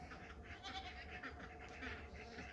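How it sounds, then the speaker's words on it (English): Several goats that have escaped their pen bleat and call from a short distance on a farm with mowing fields. The calls are faint and repeated over a steady outdoor background, and no one talks. "There's some escaped goats."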